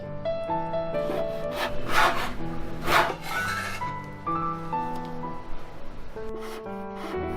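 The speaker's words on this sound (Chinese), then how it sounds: "再把泡发的笋干也切成粒。" Knife strokes on a cutting board as soaked, dried bamboo shoots are diced for a Hakka taro snack, a few sharp chops standing out beneath steady background music.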